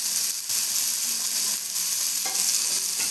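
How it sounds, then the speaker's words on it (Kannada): About a tablespoon of cumin with a little cinnamon bark dry-roasting in a pan, giving a steady soft crackling hiss broken by a few faint scraping stirs, with no talking. "1 ಟೇಬಲ್ ಸ್ಪೂನ್ ಅಷ್ಟು ಜೀರಿಗೆ, ಎಲ್ಲನೂ ಚೆನ್ನಾಗಿ ಹುರ್ಕೊಳ್ಳೋಣ"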